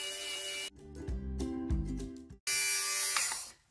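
A rechargeable portable electric fabric shaver buzzes steadily across fabric, close up. Its whining motor pitch drops and wavers as it is pressed into the cloth, then rises again when it runs free, with no talking.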